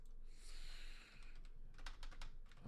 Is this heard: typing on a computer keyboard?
yes